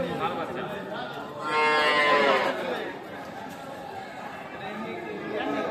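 A cow and its bull calf at a busy rural cattle market, with a clear moo rising out of the middle over constant crowd chatter and nearby voices.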